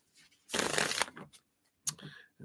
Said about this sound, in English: Let's give these a shuffle here.